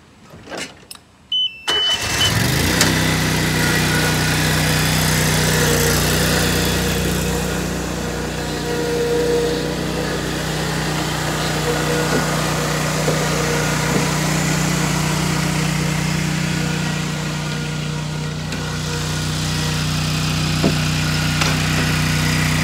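A zero-turn mower engine runs loud and steady at close range as the mower climbs a curb, after a brief start-up at the beginning, with no speech.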